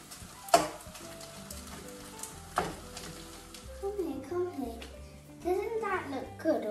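Food sizzles and fries in a pan with a soft, steady crackle beneath a child's chatter and adult voices, plus a few sharp clatters of utensils.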